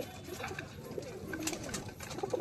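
Pigeons coo softly in a low, continuous murmur, faint and far off behind faint talk.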